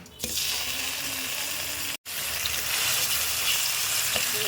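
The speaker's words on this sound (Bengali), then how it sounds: "এই যে আমি তেলটা দিয়ে দিচ্ছি, এই যে আমি মশলাটা দিয়ে দিচ্ছি।" Spices hit hot oil in a pan for a shing fish and bottle gourd curry, giving a loud, steady hiss and crackle that breaks off for a split second and then resumes just as strongly.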